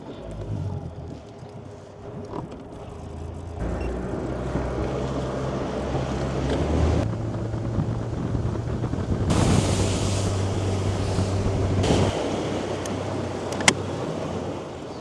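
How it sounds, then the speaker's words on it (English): A G3 Angler V178 C fishing boat's big outboard motor drones steadily out on a lake, with wind buffeting the microphone and water rushing past. The engine note shifts as it picks up speed. "let's fire up the big motor and get out on the main lake"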